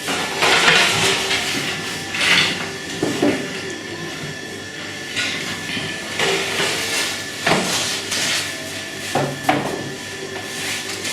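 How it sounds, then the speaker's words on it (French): Water thrown into the baking chamber of a wood-fired bakery oven turns to steam, giving several hissing bursts spread over about eleven seconds, close and moderately loud, amid clanks and bakery background noise. "je mets de l'eau ici et là, et ça diffuse la buée dans la chambre de cuisson"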